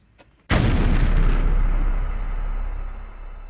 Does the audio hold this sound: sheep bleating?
no